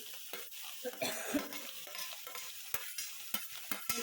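Tender ridge gourd curry cooks in oil in a pan, with close stirring scrapes and soft sizzling. Several sharp utensil knocks and clicks come near the end.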